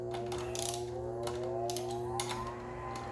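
A ratchet socket wrench loosening a brake cable holder on a Mega Moto 212 minibike during handlebar and brake assembly: rapid, close metallic clicking in quick bursts against a steady mechanical hum.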